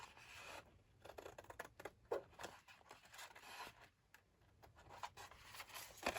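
Scissors cutting through a sheet of 12x12 cardstock along a score line, a series of quiet, uneven snips and rubbing scrapes at close range, with no talking.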